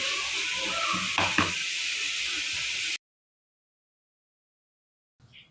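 A steady, fairly loud sizzling hiss of a blended mixture frying in hot ghee in a wok for about three seconds, then abrupt silence and a faint sound near the end.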